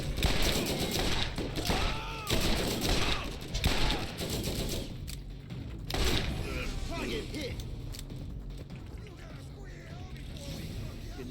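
Rifle fire in the BorderQuest video game: scattered loud bursts of shots mixed with mechanical clicks and clatter over a busy, dense game soundscape.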